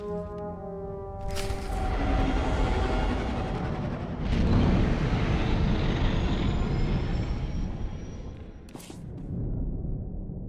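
A starship settles onto a secret landing strip in the game Star Wars: The Old Republic, with a loud, sustained engine roar and rumble that swells midway, plus whooshing bursts near the start and end.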